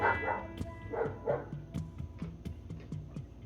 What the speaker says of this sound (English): Despite the amount of barking threw into the background there.